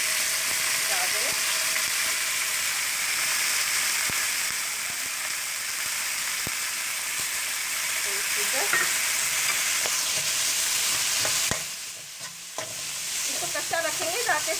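Carrots go into a pan of vegetables frying in oil, a constant close sizzle with scattered clinks and scrapes of stirring, briefly dipping before the hissing returns.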